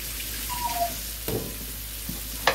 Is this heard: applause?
no